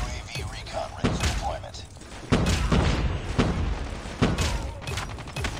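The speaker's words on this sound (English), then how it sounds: "We're gonna take this grenade, and we're just gonna throw it right there." A grenade explosion in Call of Duty Mobile comes through as a loud boom among repeated gunfire thuds and explosive blasts, sustained throughout at close range, with a player talking over it.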